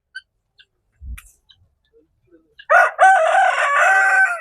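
An Aseel fighter rooster at a hatchery lets out one loud, close crow that holds and wavers for nearly two seconds, after a few faint clicks and taps in near silence.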